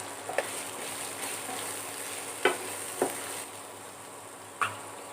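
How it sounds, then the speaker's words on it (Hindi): Potatoes and pointed gourd cook in a pan with spices, giving a low steady sizzle broken by a few sharp clinks and scrapes of a spoon against the pan. "इसमें आलू परवल डाल देंगे"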